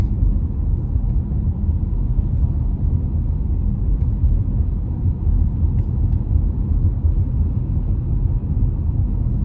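Traffic on the I-90 interstate crosses a bridge overhead, a heavy continuous low rumble heard from below by someone walking underneath, steady and loud with no clear individual vehicles.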